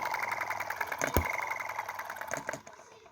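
A tiny Chinese EM2/M19 gasoline engine with a valve-operated ignition switch runs at a fast, even putter close by, with one sharp knock partway through before it fades out near the end.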